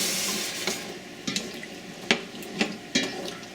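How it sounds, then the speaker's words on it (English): Water splashes and pours into a pot of lightly toasted chickpeas, with hissing sizzle and a few sharp clanks and stirs of utensils against the pot, close and fairly loud. "so I'm going to go ahead and I'm going to put my water in here"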